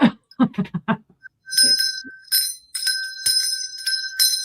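A solid brass hand bell rings in several bright, shaking bursts with a sustained metallic tone, following brief talk at the start.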